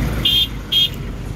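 Road traffic at a congested roundabout in Nairobi: a steady low rumble of engines, broken by two short, high electronic beeps in quick succession.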